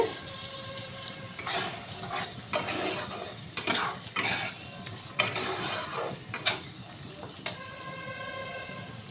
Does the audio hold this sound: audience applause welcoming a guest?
no